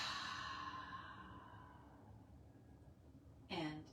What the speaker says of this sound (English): we're going to start by taking 3 deep, full, cleansing breaths